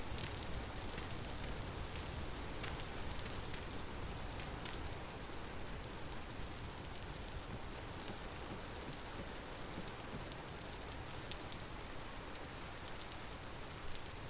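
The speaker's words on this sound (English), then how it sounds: "One of the nice things about the rain is it'll keep the hydration topped off for our plants." Steady rain falls in the survival game Vintage Story, a soft, even patter with faint scattered drops, alone and without voices.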